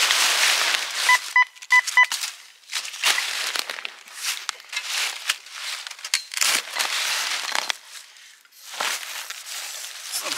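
A metal detector sounds a short series of clean electronic beeps early on, followed by dry crunching and scraping of sand and soil being dug, close and fairly loud with no talk.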